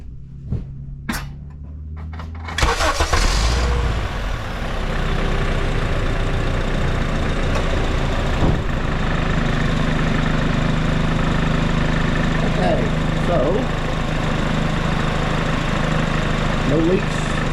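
After a few clicks and knocks, a Honda Civic 1.8 VTEC engine cranks and fires. It then settles into a steady, even idle that stays close and continuous after a freshly replaced VTEC solenoid gasket.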